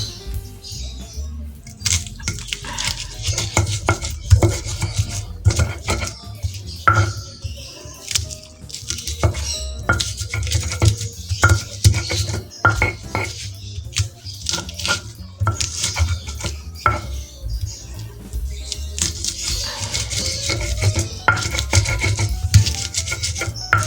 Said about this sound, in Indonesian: awalnya kita ulek dulu bawang putihnya ya Bunda ya. Kita ulek jangan terlalu halus